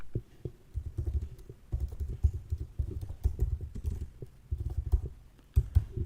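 Fingers type C++ code on a computer keyboard in quick, uneven bursts of clicking keystrokes with short pauses between runs, close up and with no talking.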